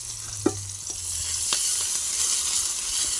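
A paste of ginger, green chili and cumin sizzles in very hot oil with onions, a dense continuous frying hiss heard close up, broken by a few soft stirring knocks and no speech.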